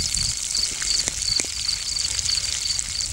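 Steady hiss of spraying water patters like rainfall, with a few soft knocks and some faint high chirping underneath.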